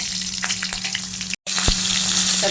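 Fennel seeds, bay leaf, cloves, cinnamon, kalpasi, curry leaves and a split green chili fry in oil for a chicken dish, a loud, close, continuous sizzle broken by a brief moment of silence partway through.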